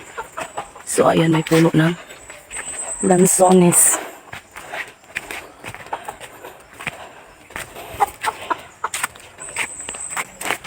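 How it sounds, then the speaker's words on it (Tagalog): Chickens cluck in short bursts among outdoor noises and footsteps, while a person talks nearby. "Ayan, may mga manok pa"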